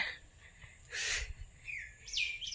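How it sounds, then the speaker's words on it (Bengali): An Asian koel calls outdoors, giving a couple of clear rising notes near the end after a soft, quiet stretch broken by a short burst of noise. "কোকিলের ডাক কত সুন্দর।"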